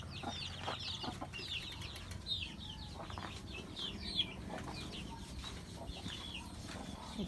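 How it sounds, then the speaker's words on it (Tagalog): Chickens cluck and squawk in scattered bursts against a low, steady background hum, fairly faint and somewhat distant. "Ayan, daming manok, oh."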